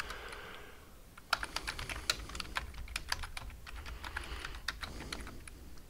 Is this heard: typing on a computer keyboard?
yes